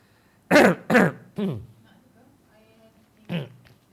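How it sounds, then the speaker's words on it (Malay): Several harsh coughs from a COVID-19 patient, close to the microphone: two quick ones, a third shortly after, then one more after a pause, with a quiet background. "Batuk lagi."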